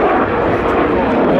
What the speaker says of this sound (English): Russian airplane.